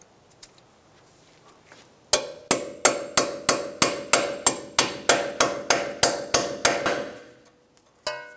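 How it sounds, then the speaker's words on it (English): Metal hammer strikes on a punch driving a cotter pin out of a steering knuckle stud on a 2012-2016 Subaru Impreza: about fourteen sharp, evenly spaced, ringing blows in a steady rhythm, close and loud, with one last hit after a short pause. "Using a punch, I'm going to get the cotter pin out of the hole in the stud."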